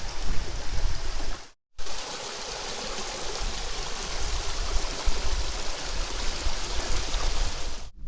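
Streams flowing through a city park in Argun make a steady broad rushing of water, close and continuous, broken by one brief cut of silence, with no voices.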